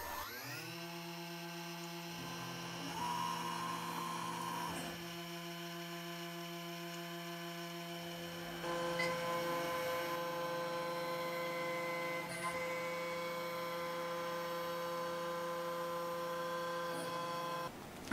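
A pantograph engraving machine cuts insert pockets in a workpiece clamped to a rotary table, giving a steady motor hum with harmonic tones and a brief louder cutting stretch, close and continuous with no speech.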